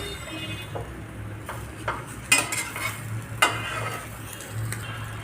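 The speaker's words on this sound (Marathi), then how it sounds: "उचटणीच्या साह्याने आपल्याला ही अशी पलटवून घ्यायचे आहे" A veg sandwich fries in butter in a pan and is turned with a spatula, giving a soft steady sizzle broken by scraping and a couple of sharp metal clinks, close by with no speech.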